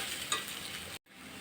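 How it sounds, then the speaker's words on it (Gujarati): Hot oil sizzles steadily as a tempering of oil is poured over freshly steamed dal muthiya. The crackling stays loud and even, cuts out abruptly for a moment, then resumes more quietly. "આપણે વઘાર સરસ એકદમ તેલ નાખી અને કરવાનો"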